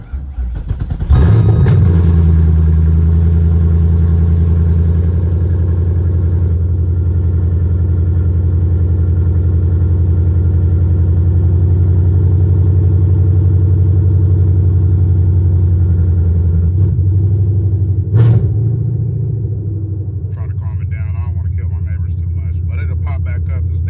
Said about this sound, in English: let's get this thing started up